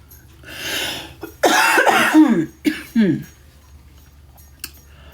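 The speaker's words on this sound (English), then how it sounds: "Figures I'm going to start to cough" Several harsh coughs close to the microphone, a burst of rough hacking followed by two shorter coughs, then quiet breathing.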